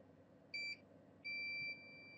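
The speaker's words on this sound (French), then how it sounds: "Donc ça bip, c'est qu'il y a bien une continuité là et là" Two clean electronic beeps from a multimeter continuity test on an iPhone 8 motherboard, the first short and the second longer, over faint background noise.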